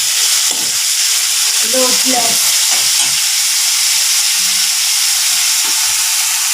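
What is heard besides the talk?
onions frying in a pan until brown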